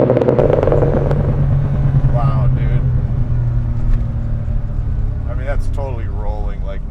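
A BMW E30 M3 engine pulls steadily at part throttle, a loud continuous drone that rises gradually, heard from inside the car with people talking over it.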